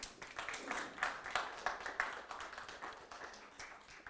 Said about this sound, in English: So welcome, huge applause.